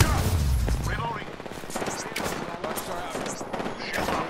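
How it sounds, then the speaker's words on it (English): Video game gunfire in a squad battle hitting the player, with dense overlapping rapid shots and crackling bursts that are loud and continuous throughout, with heavier booms at the start. "I'm taking fire. I'm getting shot."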